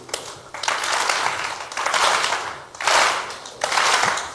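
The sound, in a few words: audience clapping, one clap per thrown ball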